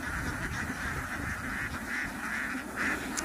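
A flock of farmed ducks moving ahead along the ground gives repeated nasal honking quacks in steady bursts, faint and somewhat distant over a low background rumble.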